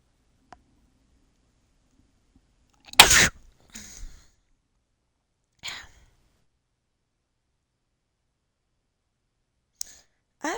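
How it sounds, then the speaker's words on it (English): One sharp, loud sneeze bursts out close to the mic at a quiet desk, followed by softer breathy sounds and a short exhale, with faint mouse clicks and a few small noises scattered around it. "That was one of those sneezes that you gotta like encourage it"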